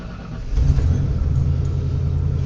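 A car with a K&N air filter and an Optima battery cold-starts. After a brief quiet moment it catches into a loud, close, low idling rumble that holds steady.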